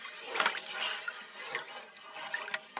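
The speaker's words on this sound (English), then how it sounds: "I'm going to stir this up really, really good" Chicken broth and canned soup are stirred in a warm crock pot, giving faint wet sloshing and liquid clinks in a few soft, irregular bursts.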